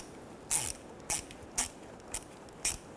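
Tool tightening a hose clamp on the thermostat hose of a 2006-2010 Hummer H3 3.7L, five short, sharp clicking bursts spaced about half a second apart, close and distinct against a quiet background.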